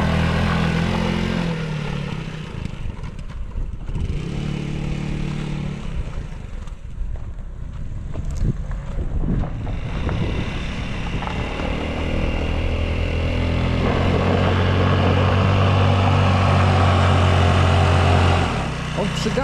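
A small 100cc Adly scooter engine drones and revs steadily under people talking, the pitch rising and holding near the end, the engine tending to die down.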